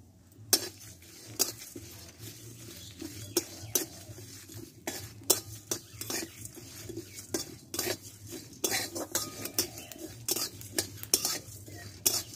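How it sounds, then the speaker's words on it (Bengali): Whole coriander, cumin, fennel, peppercorns, cardamom and dried red chillies dry roasting in an empty pan, with repeated sharp scraping and clinking of a metal spatula against the pan in an irregular rhythm over a low steady hum. "এটা শুকনো খোলা আমি ভেজে নেব।"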